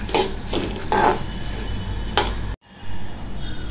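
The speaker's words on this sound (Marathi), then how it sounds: "आता आपल्या मिश्रणामध्ये आपण जे कुरमुरे घेतले होते ते टाकणार आणि ह्याला चांगल्यापैकी मिक्स करून घ्या" Puffed rice being mixed in a metal bowl for Maharashtra-style bhel puri, a few sharp clinks and scraping rustles at irregular intervals, close and moderately loud, then a brief pause before stirring resumes.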